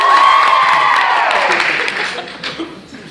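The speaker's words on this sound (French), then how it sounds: "vous allez applaudir laquelle vous voulez entre les 2" A live hypnotist show audience at a university venue claps and cheers loudly with some whoops and laughter, the burst fading gradually over a few seconds.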